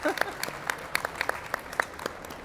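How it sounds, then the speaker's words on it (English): Scattered hand claps from a small audience at a culinary conference, sparse and uneven rather than a full ovation, fairly faint and heard without talking. "Nice applause for that."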